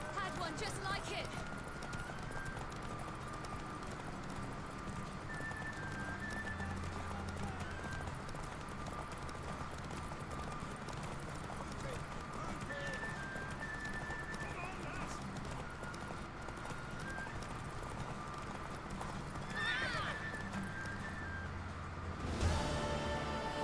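A horse in The Witcher 3 gallops with steady hoofbeats under game music and ambience, letting out a short whinny near the end; speech is faint in the mix.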